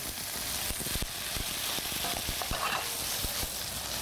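Pieces of Ventoux pork tenderloin sizzle and fry steadily in a hot pan, with repeated sharp taps and scrapes from a spatula as they are stirred up close.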